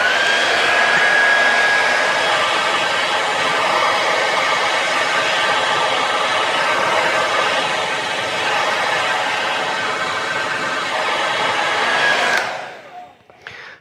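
Hair dryer on medium heat drying the sides of hair for a pompadour style, a steady loud whooshing roar with a faint whine running continuously before cutting off abruptly near the end.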